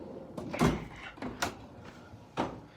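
A drawer in a metal toolbox holding rivet guns, files and steel brushes slides open, giving a few quiet scraping and clunking sounds over a short span.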